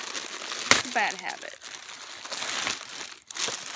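Plastic packaging of an online-shopping haul crinkles and crackles as it is cut open with scissors, close and fairly loud, while a person says a few words over it.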